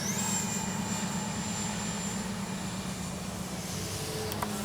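A Freewing F-22 RC jet flies with landing flaps down, giving a steady, fairly loud whine and rumble of the electric ducted fan throughout, with a slowly falling pitch and no talking.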